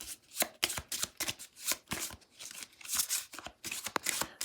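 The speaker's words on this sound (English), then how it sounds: "Next, shuffle up your finale cards." Close, crisp riffle-shuffling of a deck of Nemo's War finale cards, a series of quick papery bursts in an uneven rhythm with short pauses between.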